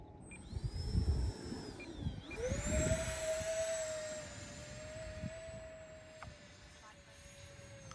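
A radio-controlled B-2 stealth bomber model plane flies overhead with its electric ducted-fan motors whining at a high pitch, the tone rising and sliding as it passes and banks, loud and fairly close against gusty outdoor wind.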